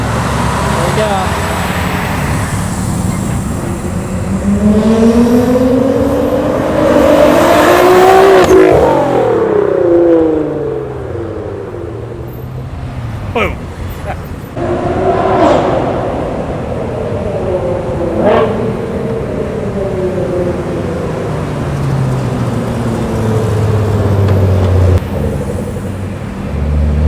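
A Nissan GT-R with a new Fi exhaust and its valves open revs repeatedly, a loud nearby engine rising in rough bursts and then dropping back, with people talking between the revs.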